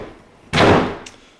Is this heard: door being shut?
yes